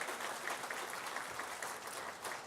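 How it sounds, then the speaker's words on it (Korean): Congregation applauding to welcome newcomers at a church service, an even, sustained wash of many hands clapping at moderate volume for the whole stretch. "박수로 환영합시다"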